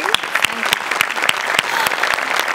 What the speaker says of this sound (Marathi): जोरदार टाळ्या सायलीसाठी.